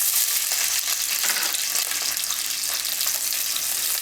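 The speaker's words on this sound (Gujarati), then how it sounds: "તેલ આપણું ગરમ થઈ ગયું છે, તો એમાં આપણે આ કેપ્સિકમ નાખી દેવું." Capsicum fries in hot oil for paneer toofani, a dense, continuous hiss of sizzling oil that stays loud and close for the whole stretch, with no talking.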